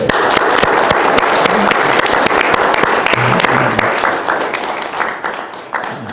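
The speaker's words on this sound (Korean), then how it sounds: "고맙다는 박수 한번 보내주실까요?" Audience applause at a forum gathering, a sustained burst of many people clapping that stays loud and steady before thinning and tapering off toward the end.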